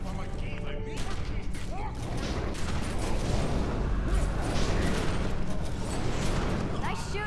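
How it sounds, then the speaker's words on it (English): Gunfire rattles in The Secret World, rapid bursts of shots and booms running continuously and loud, with voices talking over the barrage. "Nice shooting!"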